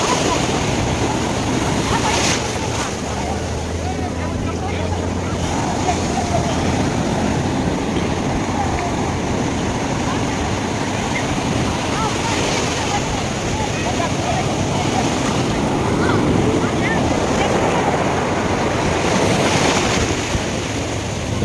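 Sea waves wash continuously onto a summer beach, a loud broadband roar with gusty wind buffeting the microphone throughout.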